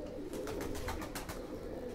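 A ferozpuri faqeergull mix breed pigeon coos softly in a short, faint burst of low rolling notes, close by against quiet background noise.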